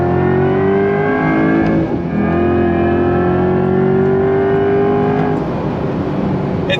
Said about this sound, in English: Love the combination of that motor sound, electric sound, and the V8.